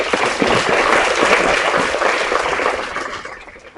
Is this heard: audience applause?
yes